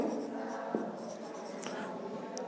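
A marker or chalk scratches and squeaks on a classroom board, faint strokes heard over a steady room hum.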